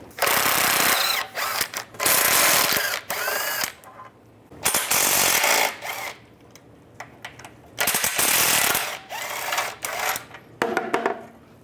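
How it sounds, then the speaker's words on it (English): A power tool with a 13mm socket removes the steering rack bolts on a 1998-2010 Volkswagen Beetle, running in about four loud bursts separated by short pauses, with no talking. "Now we'll take out the bolts that hold the rack on. There's 2 bolts on this side, 2 on the other. Use a 13mm socket."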